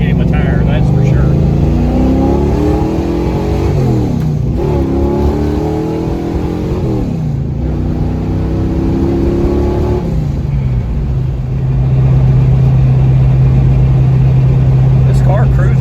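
Ford Mustang Foxbody with a 408 engine driving and revving hard, the engine note climbing through several rising sweeps with shifts between them, then settling into a steady drone, loud and close, with someone talking over it.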